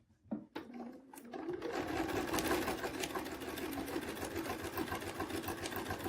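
Stitching a feather arrow quilt panel, a sewing machine starts after a couple of soft handling knocks and then runs as a steady, close, continuous hum to the end.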